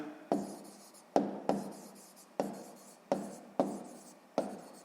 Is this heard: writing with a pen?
yes